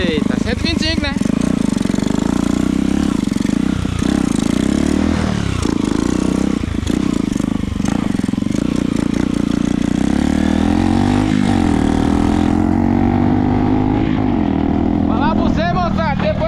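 A 125cc motorcycle engine runs steadily and loudly on a rural trip, a constant low drone with shifting revs, while someone talks over it throughout.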